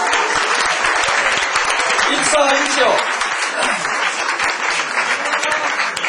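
Audience applause at a political rally, loud sustained clapping from a large crowd filling the whole stretch, with a voice briefly heard through it.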